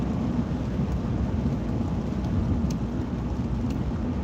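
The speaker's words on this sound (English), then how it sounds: "It's actually rain and sleet mixed in together." Steady rain mixed with icy sleet pours down in a dense, continuous wash, loud and close, with a low rumble underneath and no pauses across the whole stretch.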